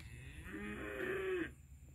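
A single drawn-out cow moo, loud and fairly close, rising and holding for about a second on a farm, with faint outdoor background and no talking.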